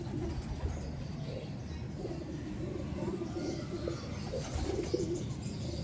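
Pigeons cooing softly in a loft, low repeated coos set against a steady background murmur.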